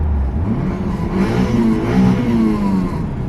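Mitsubishi Eclipse engine revs up with a rising whine as the car accelerates, loud and close, with no talk.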